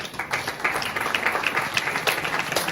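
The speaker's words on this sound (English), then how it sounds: "give them a very big round of applause?" A crowd claps steadily at a college centenary launch ceremony, a dense continuous patter of applause that neither swells nor fades.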